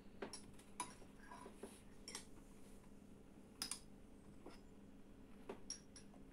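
A toddler about one year five months old eats from a dish with a spoon, producing sparse light clinks and taps of cutlery against the dish at irregular intervals, close by and fairly quiet, with no talk.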